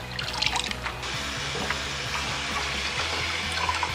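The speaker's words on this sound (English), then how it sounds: "So now we'll bring them to the sink and then we'll wash away all this salty water." Tap water pours into a kitchen sink as salted kimchi cabbage is rinsed beneath it, a steady rushing stream with light splashing and clatter, close and continuous, with no talking.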